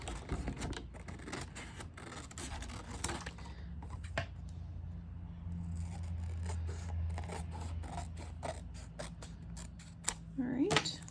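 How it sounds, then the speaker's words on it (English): Scissors snipping out a paper folder insert for a travelers notebook, with quiet, irregular crisp cuts and rustling close by, and a low hum in the background. "So let's cut this one out."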